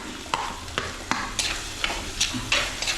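Small onions and green chili sauté for a Kerala-style sardine curry, a steady sizzle of frying broken by regular sharp clicks of a spoon stirring against the pan, roughly eight strokes close up.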